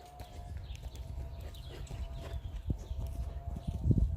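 A horse trots in a riding lesson arena, its hoofbeats a steady clip-clop rhythm at mid distance, with faint background sounds and a few louder thuds near the end.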